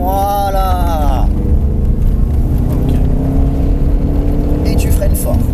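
A car on a driving course accelerates with a steady, loud engine rumble and rising tone. A person talks briefly at the start over the engine.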